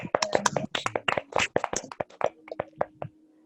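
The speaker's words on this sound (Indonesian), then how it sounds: "Ya, tepuk tangan dulu." A group of people claps hands in a quick burst of sharp, uneven claps that thin out toward the end, close and fairly loud in a classroom setting.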